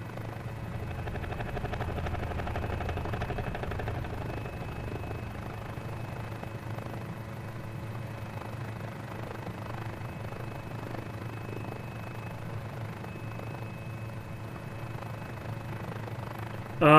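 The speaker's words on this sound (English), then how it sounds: "It's quite a nice little helicopter." A small helicopter in a flight simulator video game gives a steady, droning engine and rotor hum for about seventeen seconds at a moderate level, ending in a sudden loud burst.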